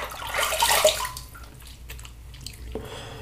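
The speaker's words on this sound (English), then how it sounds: "Just rinsing off, it does rinse off in the scheme of things relatively easily." Water splashes close up as Extro Dandy shave soap is rinsed off a face, a short burst of running, splashing water that fades to quiet drips and faint handling.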